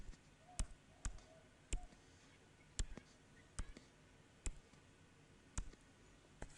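Sharp, faint clicks of calculator keys being pressed one at a time at an irregular pace, about eight taps, in a quiet room.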